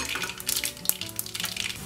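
Mustard seeds, cumin and peanuts crackle in hot oil for Andhra pulihora, a steady bright sizzle with small pops throughout a brief, close stretch.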